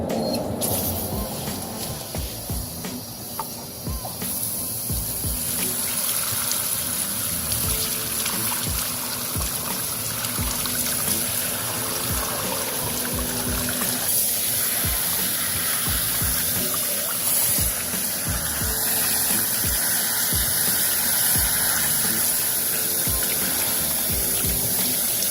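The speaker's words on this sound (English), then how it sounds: "So spray both sides and then rinse from the clean side." Steady hissing water spray runs continuously, rinsing a K&N air filter, with a rushing, splashing wash of liquid close to the microphone and no talking.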